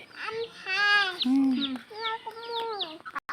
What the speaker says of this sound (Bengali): তুমি মুরগি দেখাও, এটা মুরগি